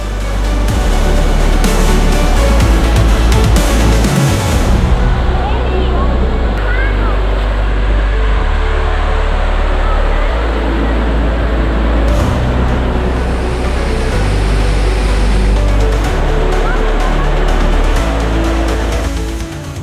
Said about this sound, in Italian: ci troviamo nella parte bassa della cascata e già come potete vedere è spettacolare.